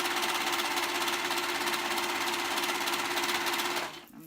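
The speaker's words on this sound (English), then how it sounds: "I'm serging all the way around, making sure all those edges are in." A serger stitches around the fabric edges of a hoodie with a fast, steady mechanical whir and rattle, close and continuous for about four seconds before stopping abruptly, no talking.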